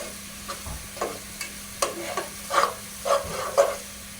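Ingredients for chicken biryani are stirred and fried in a pan, with soft sizzling under a series of rhythmic scraping stirs, close and fairly quiet, with no talking.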